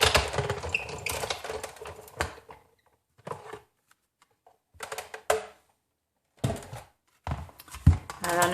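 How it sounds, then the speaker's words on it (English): A Big Shot die-cutting machine cranks a stack of plates through, with bursts of rapid clicking and grinding separated by short silences, close and fairly loud, without talk. "I'm going to zip it on through the Big Shot."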